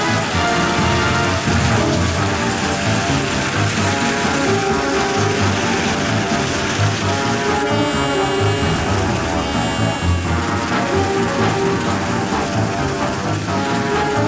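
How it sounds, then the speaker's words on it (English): Rain falls steadily and loudly throughout, a continuous hiss mixed with music and a rumbling engine-like tone. "Can't you see it's raining out here?"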